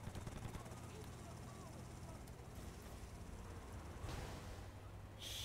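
Helicopter in the video game GTA Liberty City Stories: a steady whirring drone runs throughout, with bursts of gunfire-like noise toward the end and someone talking over it.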